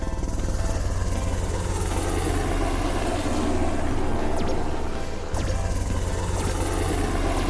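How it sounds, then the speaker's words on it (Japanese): Helicopter rotor thudding steadily and loudly, a continuous close chopping drone with heavy low-end rumble and no voices. "ヘリコプターに乗ってみたいです。"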